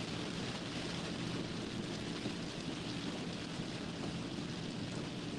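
Heavy rain pounding a car on the road as it drives alongside a tractor trailer, a dense, loud, unbroken roar of rain and road spray with no pauses.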